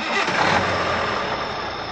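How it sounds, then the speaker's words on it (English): Truck engine starting as a sound effect: a short crank that catches into a rough, rising engine roar, then settles toward an idle, close and loud. "Joe started the engine, and the journey began."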